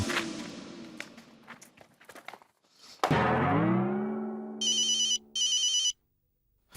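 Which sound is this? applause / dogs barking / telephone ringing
telephone ringing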